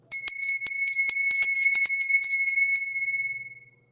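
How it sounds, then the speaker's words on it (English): A hand bell rung over and over in a quick, uneven run of bright metallic strikes, each ringing out with clear tones, then one long ring left to fade away alone, close up and without talk. "let's go ahead and ring the bell"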